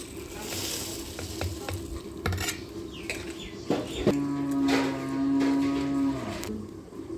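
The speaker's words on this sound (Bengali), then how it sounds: "চালটি দেওয়ার পর আমি ভালো করে নাড়িয়ে নেব।" Rice stirred in a pot of boiling water for Kolkata-style chicken biryani, with bubbling and scraping stirs close by and a low steady hum sounding through the middle, moderately loud and without speech.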